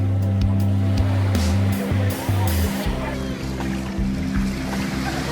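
Several motorboats crowd the water at Maya Beach in Thailand, their engines droning steadily and loudly up close over a wash of surf.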